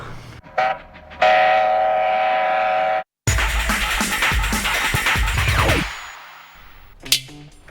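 A train roars past close by, its horn blaring at the start, followed by loud rumbling and clattering wheels that fade, then a sharp bang.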